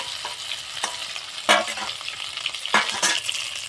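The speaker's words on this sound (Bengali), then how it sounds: "সব উপকরণ একসাথে দিয়ে এবারে আমি ভালোভাবে ভেজে নেব বেগুনগুলো" Marinated eggplant pieces fry in a pan with a continuous close sizzle, broken by several sharp bursts of spatula stirring and scraping, and no voices.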